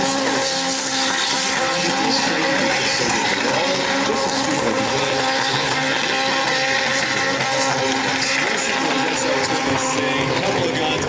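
Drift cars battling side by side in a drifting competition, engines roaring continuously at full revs with a constant loud, dense wall of engine and exhaust noise, with no voices.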